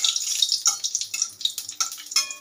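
Two dried red chillies frying in hot mustard oil in a wok, giving a steady bright sizzle with crackling bursts and spits throughout, close and alone with no talk.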